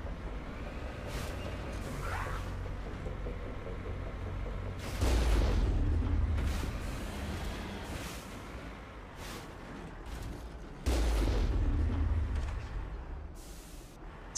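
Heavy booming gunfire from a turret in the Mass Effect video game, a few loud deep blasts among smaller sharp shots and a continuous low rumble.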